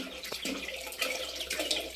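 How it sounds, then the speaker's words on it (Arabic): Filtered water pours and splashes steadily into a chick waterer, a soft continuous trickle with small splashy bursts, close and fairly quiet. "نحط لهم بقى الميه بتاعتهم اهي، ميه نضيفه والله من الفلتر"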